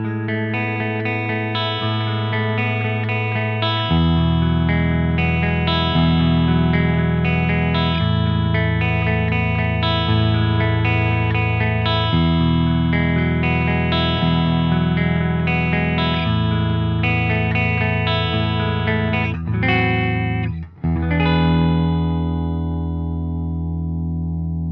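A Gibson Les Paul Special Tribute Humbucker electric guitar plays loud distorted chords and riffs for a long stretch, with sustained ringing notes, one brief cut near the end and a final chord left to decay.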